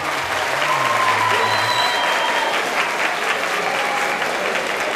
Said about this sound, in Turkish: Ona da büyük bir alkış istiyorum.